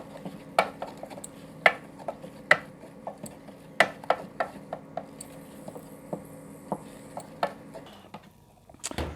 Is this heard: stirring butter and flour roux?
yes